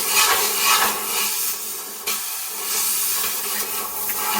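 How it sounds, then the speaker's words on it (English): Compressed air blowing around the air filter housing of a small engine: a steady, broad hiss that runs continuously close to the mic, dipping briefly midway and then resuming. "We'll take some compressed air, and we're gonna blow around the housing"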